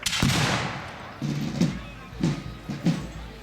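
Rifles fired by reenactors at the Mississinewa 2011 War of 1812 reenactment, several sharp distant reports spaced about a second apart, each with a short rolling echo, under a narrator's voice.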